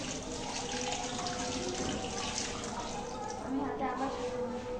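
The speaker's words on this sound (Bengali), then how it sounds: "প্রত্যেকটা আঙুল আমি সুন্দর করে ধুয়ে নেব।" Hands are washed under running tap water, a steady close splashing rush continuing throughout, with a person talking over it.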